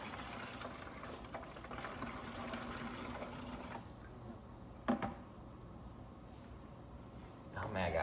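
Water draining from a CNC plasma table through a siphon hose started by a blower, a steady low gurgling rush with a few louder bursts, heard under a voice.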